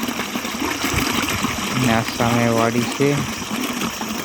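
Water gushes steadily from a second electric pump motor at a farm field, a constant rushing flow beneath someone speaking.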